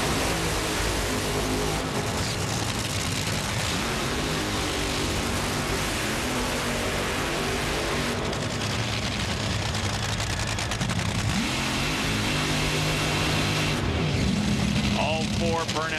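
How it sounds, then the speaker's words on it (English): Four top fuel dragsters roar through their burnouts side by side at the 4-Wide Nationals, a dense, loud wall of engine noise that sustains the whole time. A crowd and a track announcer sit beneath it. "All 4 burnouts complete now."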